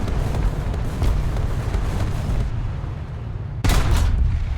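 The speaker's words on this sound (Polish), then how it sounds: "90 mm działo do mnie strzelało" In the War Thunder tank game, a 90 mm tank cannon fires during combat with a VK 3002 (M) prototype tank: a steady, heavy engine rumble carries throughout, broken near the end by one sudden, loud, sharp blast.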